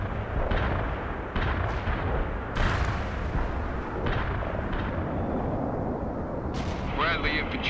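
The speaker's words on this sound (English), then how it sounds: "Wilco, fire mission received. Artillery barrage inbound." Artillery barrage in the Cold War strategy game World in Conflict: repeated heavy booms and rumbling blasts rolling through continuously, dense and loud, with brief radio-style voice chatter near the end.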